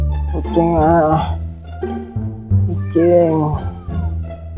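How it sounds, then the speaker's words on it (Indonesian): A cat meows loudly and close by, giving two drawn-out cries with a shorter call between them while a voice speaks briefly. "Kucing ah."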